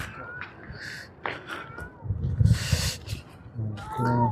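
A cat meows several times on a hillside path at Jabal Thawr, near and fairly clear, with scattered ambient noise and rustling between the cries.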